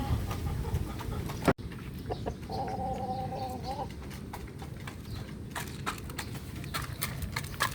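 A chicken clucks briefly in the middle, under steady background noise and scattered clip-clop taps, with a sharp click early on.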